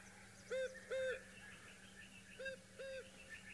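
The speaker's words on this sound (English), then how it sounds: "this is a typical cuckoo sound we hear in South Africa." Repeated two-note cuckoo call heard in South Africa, clear hooting phrases in two pairs spaced apart, moderately near over a faint steady background hum.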